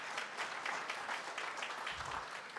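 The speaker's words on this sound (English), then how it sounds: "Let's give them a big round of applause for organizing this." An audience at a small business summit claps for the city staff who organized it, a soft, even patter that sounds distant and quiet throughout.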